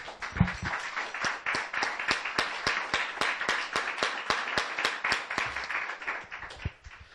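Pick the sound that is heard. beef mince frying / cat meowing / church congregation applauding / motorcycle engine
church congregation applauding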